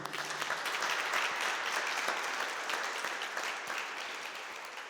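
Church congregation applauding the Lord during a Spanish-language sermon, a steady, dense wash of clapping from many hands that holds loud for the full stretch, easing slightly toward the end.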